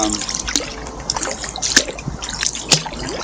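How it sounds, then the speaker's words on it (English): Kayak paddle strokes in the shallow water of Hendry Creek, several quick, short dips and splashes trickling close by at a steady rhythm, with no talk. "So you can also paddle at a shallow angle like I'm doing here and not much water."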